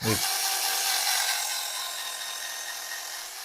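Leader Lite BD4-W1 cordless electric scissors cut through thick leather, about 1.5 to 2 mm, giving a short motor buzz and rasping cut that fades slightly over a few seconds, close and alone.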